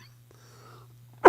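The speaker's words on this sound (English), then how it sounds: "Sorry, I'm getting a coughing fit." A single short, sharp cough bursts out near the end after a stretch of near silence with a steady low hum underneath.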